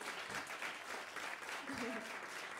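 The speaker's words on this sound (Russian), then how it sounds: "пожалуйста, не скупитесь на аплодисменты" An audience claps for musicians just introduced at a concert: a short, fairly quiet spell of dense, steady applause, with voices faintly mixed in.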